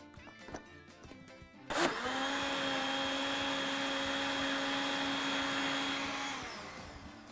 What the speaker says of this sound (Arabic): وطبعا ندور بس الخلاط، خلطهم مع بعض بسرعة كده